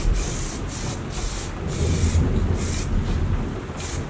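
Steady hiss of flexible primer sprayed from a can or spray gun onto a Nissan 350z lip, in repeated bursts of about half a second each, close by over a constant background rush.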